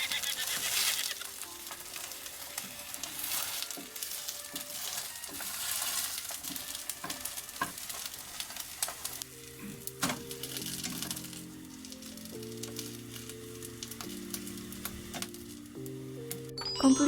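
Okonomiyaki with beef tendon sizzles softly on a household electric griddle, a steady quiet crackle punctuated by light clicks and scrapes, with a faint tonal hum appearing partway through.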